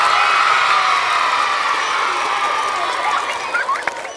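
A live crowd at a televised dance-competition show roars with cheering and high shouts, loud and continuous, with a few sharp whoops rising near the end.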